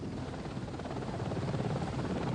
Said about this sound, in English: Mrs. Thatcher was brought to the crisis centre in Zeebrugge in a Belgian Army helicopter